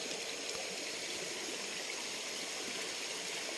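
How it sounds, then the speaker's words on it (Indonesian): A small river in a village in Indonesia flows steadily, giving a constant broadband rushing wash at moderate level with no voices. "Tapi sungai ini kemudian mengalir ke Sungai Taupa."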